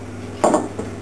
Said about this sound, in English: Lid back on.